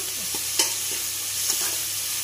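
Tomatoes sizzle steadily in a pan while being cooked down for a potato and pea curry, a constant frying hiss broken by a few soft scrapes of stirring, close and alone.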